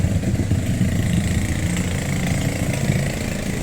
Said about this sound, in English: Hear that motorbike engine.